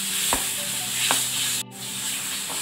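Ginger garlic paste sizzles steadily in hot oil in a kadhai, with a couple of soft stirring scrapes and a brief dip in the frying hiss.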